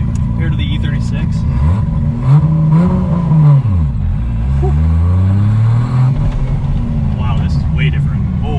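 A 700 hp Lexus IS300 engine revs and accelerates while driving, with the pitch rising and falling through gear changes, loud and close from inside the cabin.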